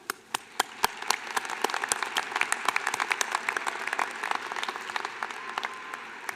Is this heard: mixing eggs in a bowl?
no